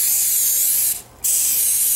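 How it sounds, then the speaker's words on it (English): Palm oil non-stick cooking spray hissing onto a baking pan for bread dough, two steady close bursts separated by a short pause. "I have my palm spray, non-stick spray."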